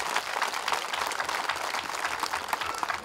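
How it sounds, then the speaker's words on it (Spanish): Sustained crowd applause at a village fiesta with a ranchero jaripeo, dense steady clapping filling the whole stretch at an even level. "pido un fuerte y caluroso aplauso a nuestra Virgen de la Asunción"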